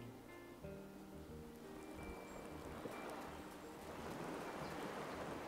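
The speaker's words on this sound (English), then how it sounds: "He's sitting outside in the rain." Rain falling in the video game Wylde Flowers: a steady, soft wash of rainfall, faint and continuous, with faint game music tones fading out at the start.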